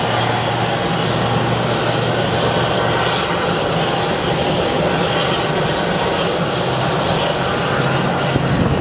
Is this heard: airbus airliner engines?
yes